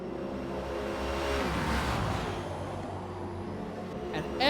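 Race cars run through the Porsche curves at Le Mans in a racing video game, their engines droning and shifting pitch as they sweep through the bends, then a brief sharp burst at the end.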